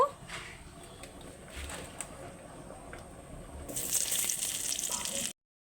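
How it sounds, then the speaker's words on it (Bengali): Chopped onions fry in oil in a pan for a Bengali egg curry, giving a soft, steady sizzle that grows brighter and louder toward the end before cutting off abruptly. "পেঁয়াজগুলো প্রথমে একটু লাল লাল করে ভেজে নেব"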